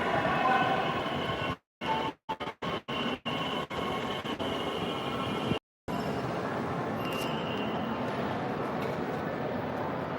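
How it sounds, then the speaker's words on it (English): A train arriving at a station platform, with a steady loud rumble of rail noise and several sharp dropouts, heard up close. "Feel a breeze, it means the train is here."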